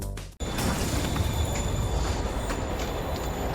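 In the Spider-Man video game, a train rumbles steadily at a station after a brief cut at the start, with faint high metallic squeals above the rolling noise and no speech.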